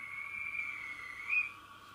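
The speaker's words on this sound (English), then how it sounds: "guard's whistle" A guard's whistle from a model steam locomotive sound decoder, fitted to the Ince Castle, gives a thin, steady, faint whistle tone held for about a second and a half, with a slight rise near the end, over low background hum.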